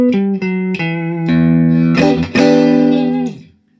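Electric guitar played through a Fender 1966 Deluxe Reverb amp with reverb set low for a fully dry signal: a few single plucked notes followed by ringing strummed chords that cut off abruptly at the end.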